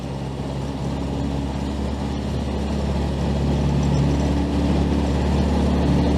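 A vintage 1925 Austin Seven car on the move, its small engine giving a steady, close, rumbling drone with low harmonics that holds even and loud throughout, with no talking.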